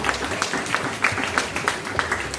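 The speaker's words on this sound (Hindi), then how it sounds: "एक बार और जोरदार तालियां हो जाए दोनों गुरुजी के लिए।" Classroom applause for two teachers, a small group clapping in a fairly even rhythm, soft and somewhat distant, with a faint background murmur and no speech over it.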